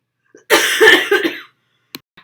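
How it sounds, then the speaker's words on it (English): One short, harsh cough burst lasts about a second, followed by a few faint breathy sounds in otherwise quiet surroundings. "I had a little coughing fit"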